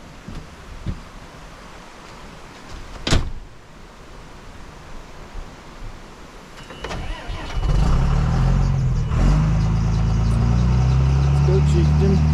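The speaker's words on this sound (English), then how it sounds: "let me fire it back up and try to move it forward just a little bit off the tire" Engine cranking and catching during hurricane cleanup in Elk Park, NC, settling into a loud steady idle that runs through the second half, with an earlier sharp knock and faint outdoor background.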